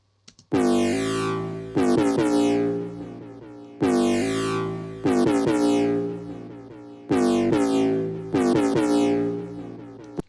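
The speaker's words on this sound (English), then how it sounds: "I started out with this bass line right here" A repeating bass riff loops with plucked, resonant low notes and harmonic overtones, phrased in steady cycles about every two seconds.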